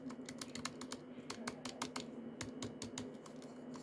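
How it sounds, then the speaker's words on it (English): Taps on the spacebar and keys of a modded Langtu membrane keyboard give a rapid series of sharp, close clicks with some rattle, heard alone over quiet background. "the spacebar goes like this."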